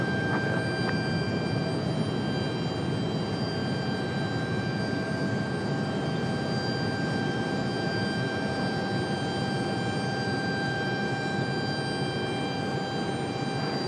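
A Brickyard airliner powers up on runway 23 right at Raleigh-Durham for takeoff, a continuous broad engine roar with steady high tones, sustained and fairly loud throughout.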